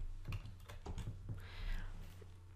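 Soft computer keyboard typing, a few scattered keystrokes over a low steady background hum, close but quiet.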